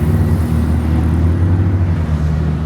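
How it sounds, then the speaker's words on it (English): A Bugatti Chiron hypercar pulls up with a deep, steady engine rumble and low whirring drone, loud and close, with no speech over it. "Chiron pulling up"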